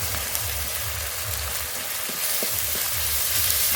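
Onion paste masala with cumin, ginger and dried chilli frying steadily in a pan, a continuous close sizzle with faint stirring clicks and no voices.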